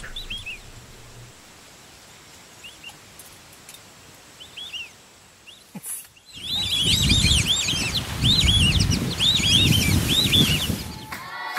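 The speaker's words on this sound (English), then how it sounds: "There were so many birds." Many birds on a Botswana safari call and chirp in dense overlapping bursts. Sparse calls come first, then a loud, busy chorus with a low rumbling backdrop.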